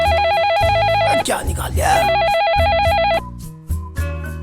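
An old-style telephone bell rings in a comedy sketch, loud, steady repeated trilling for about three seconds before stopping, with people talking over and after it.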